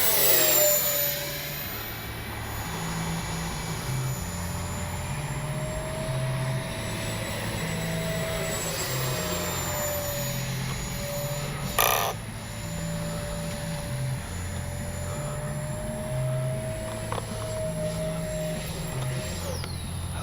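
A Freewing Banshee RC sport jet passes overhead with a thin, whining electric ducted-fan tone that swells and shifts pitch as it flies toward and past the listener, steady over a low background rumble.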